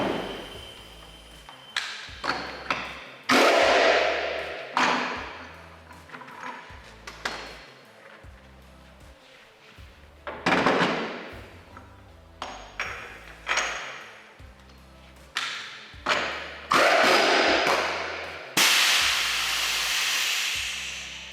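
Pneumatic wheel guns at a racing pit stop, many sharp loud bursts and hissing blasts of compressed air in irregular clusters, close and dominant, with brief pauses between the bursts.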